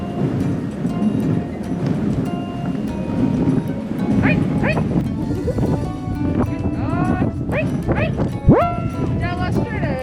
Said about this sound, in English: All the barking is just trying to get us to let them go.